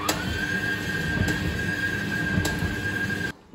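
A tumble dryer running just after a new drive belt was fitted, giving a steady mechanical rumble with a constant high whine on top and a few faint knocks, before it suddenly drops off.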